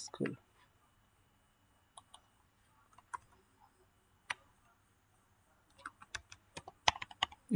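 Typing on a computer keyboard while labelling a school in a mapping program, with sparse single clicks and short bursts of keystrokes, quiet and close, ending in a quicker run of taps with a voice speaking in between.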